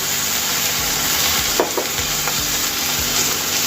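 Paneer fried rice with vinegar and soy sauce is stirred in a hot pan: a loud, steady sizzle runs throughout, with a few spatula scrapes and knocks near the middle and no voices.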